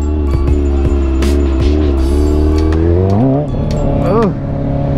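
A motorcycle engine idles steadily up close during rolling stoppie practice, then revs briefly twice, the pitch rising and falling each time, loud and continuous with wind noise.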